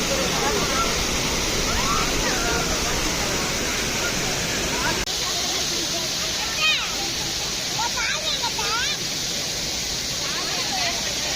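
Water at the Kodiveri dam waterfalls in Erode thunders in a loud, steady broadband roar, with people talking and calling out faintly underneath the continuous rush.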